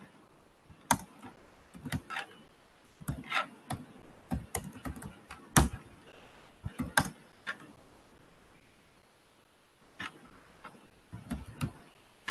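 Irregular bursts of clicky keystrokes on a computer keyboard while writing Scala code, close and quiet, with short pauses between flurries and no talking.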